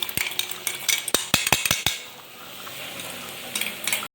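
Metal spoon stirring and scraping vegetables for a banana stem poriyal in a cooking pan, a run of sharp clinks and scrapes that thin out midway, then resume briefly at the end.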